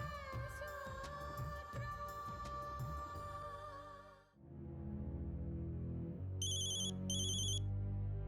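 A telephone rings during an outgoing call, its tones surfacing in short repeated bursts over a tense music bed, with no voices present.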